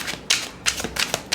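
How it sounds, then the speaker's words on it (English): Tarot cards being reshuffled by hand, giving four short, crisp riffling bursts in a quick irregular rhythm, close and fairly loud with no talking. "I'm going to reshuffle."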